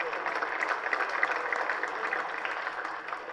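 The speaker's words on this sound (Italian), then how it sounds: "volevo fare un applauso ai nostri sponsor" Applause at a raffa bocce Serie A match, a steady wash of many hands clapping that holds at an even level through the whole stretch, with a faint murmur of voices in the hall underneath.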